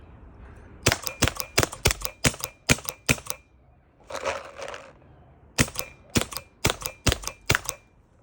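A CCM Series 5 pneumatic paintball marker fires in two quick volleys of sharp, snappy cracks, seven and then six shots, with a brief hissy rustle between the volleys, close and loud.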